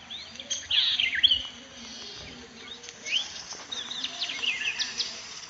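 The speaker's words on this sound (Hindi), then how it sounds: "अरे वो देखो, रंग बिरंगी चिड़िया।" Colourful birds at a zoo chirp and tweet in a scattered series of high, bright calls, a few closer and louder bursts standing out over soft ambient noise, with no talking.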